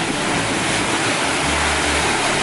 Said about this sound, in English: I'm standing on a bridge at the River Ness, and I don't know if you can see it, but you can definitely hear the power